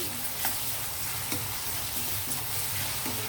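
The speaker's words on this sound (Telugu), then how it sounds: "ఈ అల్లం వెల్లుల్లి పేస్ట్ కూడా పచ్చి వాసన పోయే వరకు కొద్దిగా వేగనివ్వాలండి, ఫ్రై అవ్వనివ్వాలి." Ginger garlic paste frying with onions in a pan for chicken curry, a steady soft sizzle with faint stirring scrapes and small crackles throughout.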